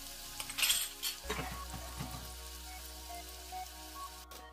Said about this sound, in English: butter and some avocado oil in a preheated beautiful Dutch oven. Yes, sir. Yes, ma'am. And in goes our onion and our carrots.